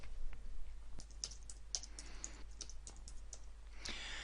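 Keystrokes tap steadily on a computer keyboard, a quiet run of light clicks at an even typing pace over a low steady hum, with no one speaking.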